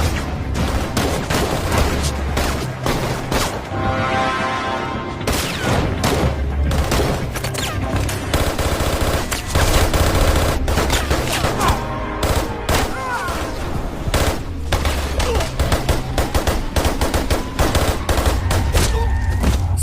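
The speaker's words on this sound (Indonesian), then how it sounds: "aksi saling tembak pun terjadi" Dense gunfire rings out through a film shootout, with rapid bursts and sharp repeated shots blending into continuous fusillades, loud and close over a constant background soundtrack.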